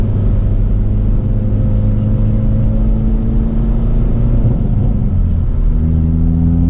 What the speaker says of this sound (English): And here's me disturbing the peace with my very loud car.